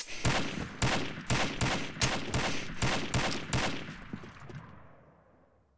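Rapid bursts of gunfire in Combat Arms crack in a steady rhythm, about a dozen sharp shots, then fade out into silence.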